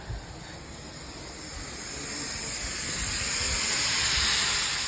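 Compressed air hisses steadily out of trailer air hoses as they are flipped up, a loud continuous rush that swells gradually and holds, with no talking.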